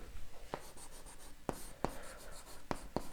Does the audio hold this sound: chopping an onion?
no